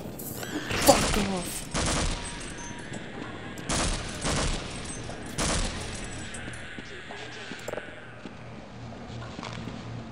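Gunfire from the video game Half-Life: several short bursts of automatic shots, each about half a second, spaced a couple of seconds apart, over quieter game ambience with some talk nearby.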